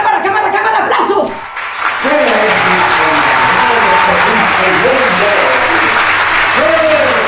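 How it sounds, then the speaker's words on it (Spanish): A crowd at a political rally breaks into loud, sustained clapping that dips briefly and then swells again, with voices and chatter mixed in. "¡Aplausos!"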